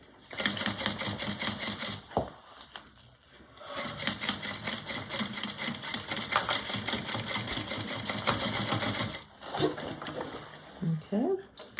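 A sewing machine stitching over thick bag binding on a Lettie Mini Bowler Bag, running in long steady bursts with brief pauses, close and loud, and a voice talks at times.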